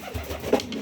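A pigeon bred from two dark checker parents gives a soft, low coo, close by and brief, with a faint hum of background noise around it.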